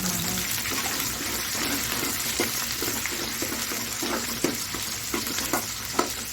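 Onions and garlic sauté in a pan with a constant loud hiss and crackle, while frequent spatula scrapes and taps sound close by as the mix is stirred, and no voice is heard.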